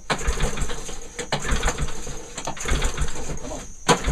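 A small engine on a garden hoe fitted with a brand new carburetor, fresh oil and a stacked exhaust sputters and chugs in uneven bursts, loud and close, as it is cranked and tries to catch.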